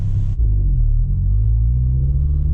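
Turbocharged 9th generation Honda Civic Si driving, a loud low engine rumble that dips briefly then holds steady, with the pitch slowly rising under load.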